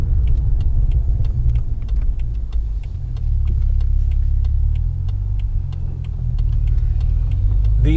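A BMW F10 sedan pulls out over a dip and drives off, its engine a loud, close, steady rumble with faint regular ticking over the top throughout.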